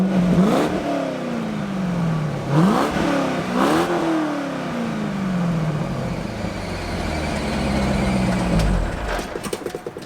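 A C5 Corvette engine running with a loud exhaust, blipped in a few quick revs that sweep up and slowly settle back to a steady drone, close by.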